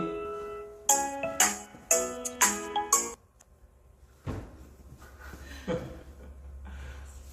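A phone rings with an incoming call, a series of bright electronic tone bursts in a quick rhythmic pattern, followed by thumps and handling noise in a room.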